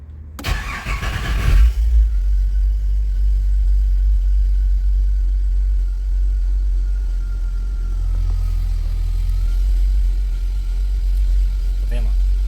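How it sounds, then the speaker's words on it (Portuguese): An older car's engine cranks briefly and catches, then settles into a steady low idle rumble that holds for about ten seconds with a slight rise in pitch partway through. "vamos dar partida aqui no carro e ver aí funcionando o motor"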